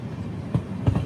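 An express train hauled by an electric locomotive rolls along, wheels knocking twice over rail joints against a steady low rumble of the moving carriages.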